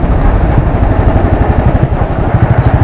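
A 2016 Royal Enfield Classic 500 Desert Storm single-cylinder motorcycle cruising, its engine a loud, steady low thump with a continuous rhythmic pulse under heavy rushing wind noise, no talk.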